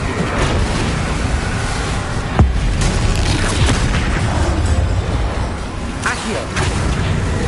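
Incendio fire spell cast in the Hogwarts video game, a dense roaring burst with a sharp boom near the middle, loud and sustained over constant game noise, with a voice briefly heard.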